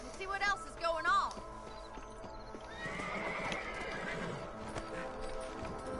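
Horses in the Red Dead Redemption video game whinny loudly twice early on, followed by a steady stretch of clip-clopping hooves across open ground, with game characters talking over it.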